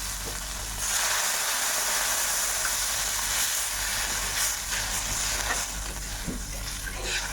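Water poured into fried spices in a hot pan for begun posto sets off a loud burst of sizzle and steam that stays as a constant hiss with light stirring scrapes.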